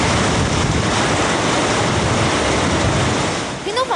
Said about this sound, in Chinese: 屏东枋山强风豪雨有如强台来袭， 狂风暴雨